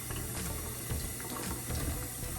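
Kitchen tap running water on a low flow while rinsing a lemon and a turkey for holiday cooking, a steady close splashing stream throughout with no talk.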